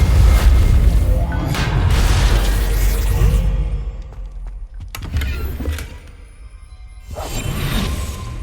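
Incendio and Reparo spells cast in the Hogwarts Legacy video game, loud whooshing magic effects with booming bursts, a sustained rush followed by sharp cracks and a final swell.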